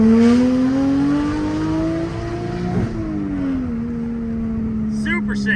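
A Toyota JZX100 swapped from its original engine to a GTE engine accelerates hard in second gear, a loud, steady engine note that climbs in pitch, eases and rises again, with a voice faintly at the end.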